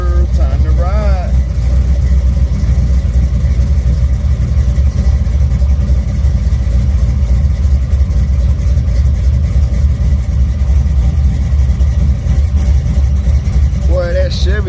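Low rumble of a Chevrolet G-body car's engine runs steadily throughout, with a voice chiming in briefly at the start and again near the end.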